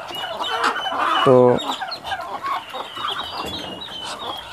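A Muscovy duck and her ducklings come to bathe in a small tub of water, with clucking and chattering calls from the fowl, one loud burst of calls at mid-clip, and someone speaking briefly.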